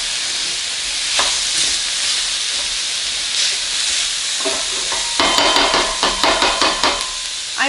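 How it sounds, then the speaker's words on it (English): Ground beef browns in a pan with a steady loud sizzle and hiss. Toward the end, a run of sharp scraping and tapping from a tool stirring and breaking up the meat joins the sizzle. "throw in my ground beef to get it started as well"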